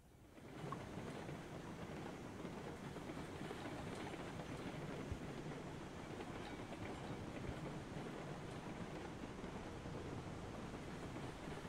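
An empty train rolls along rails in the video game Railroads Online, a steady broadband rumble with faint rail noise that holds at an even level throughout, no talking.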